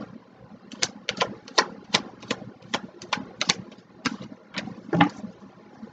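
Tarot cards being shuffled by hand, a close series of quick, crisp snapping riffles in irregular bursts over a quiet room, with no talking.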